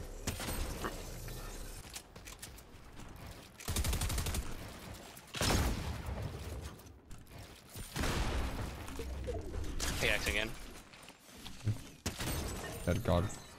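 Bursts of rapid gunfire from Fortnite come in several loud stretches separated by quieter gaps, with a player talking in between and over the shots.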